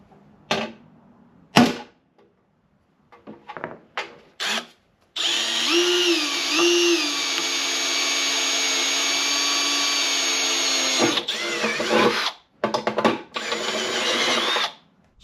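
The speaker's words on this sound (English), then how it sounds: "let's go ahead and mark and drill our hole for the turbo oil return." A power drill boring a hole in a cleaned oil pan for a turbo oil return on a cheap Civic turbo build. A steady, loud, high whine runs for several seconds, then stops and starts again, after a few short knocks.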